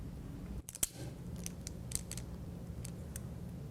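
A crimping tool squeezes wire connectors, giving one sharp snap followed by a few lighter clicks over a low background hum.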